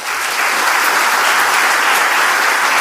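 A Korean church congregation claps warmly at a dedication and ordination service, a loud, dense, continuous roar of many hands filling the room from start to finish without any speech.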